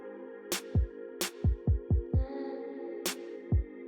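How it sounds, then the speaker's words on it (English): A hair blow dryer runs with a steady, close motor whine, punctuated by several sharp clicks and low thuds in an uneven rhythm. "I'm gonna turn the blow dryer on"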